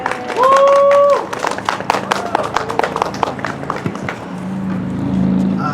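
A vigil crowd gives a round of applause, scattered claps rising and thinning over several seconds while a voice speaks over the opening.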